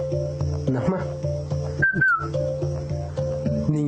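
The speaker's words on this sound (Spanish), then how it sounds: "El mazateco chiflado nace a través de la necesidad de comunicarnos a grandes distancias." Mazatec whistled speech, the kind used to communicate across long distances between hills, rises as a brief gliding whistle over steady background tones and music-like hums, loud and close.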